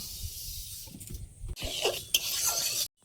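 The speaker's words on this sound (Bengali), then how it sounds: "এই কড়াই মুগ ডালটা ভেজে নেব" Moong dal being dry-fried and stirred in a wok, with scraping, rustling rasps of lentils against the metal in short irregular strokes, close and moderately loud, ending abruptly.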